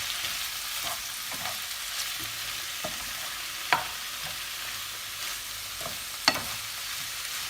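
Tomatoes and peppers fry in a pan with a steady, fairly quiet sizzle, punctuated by occasional soft stirring scrapes and two sharper clicks of a utensil; nobody talks.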